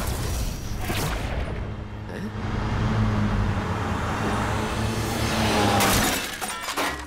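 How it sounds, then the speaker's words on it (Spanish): A cartoon car slams into another car in a loud, sustained crunch of shattering and scraping metal over running engine and road noise, with a second burst of impact near the end. "¿Por qué no has parado? ¡Has chocado contra mi coche!"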